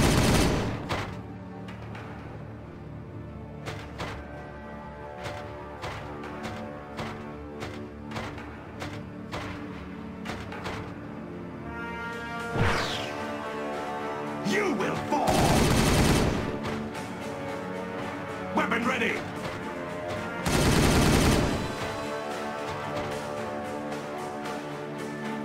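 Gunfire in Warhammer 40000 Regicide, with dense bursts of rapid shots and booming impacts layered over a rolling battle soundscape, loud and continuous, with two heavier explosive blasts standing out.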